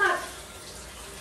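Water streams from a household tap, starting with a louder splash and then settling into a soft, steady flow, with a faint voice near the start.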